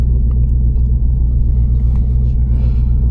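A manual S650 Mustang GT engine idles nearby with a steady, heavy low rumble that holds level throughout and carries no speech.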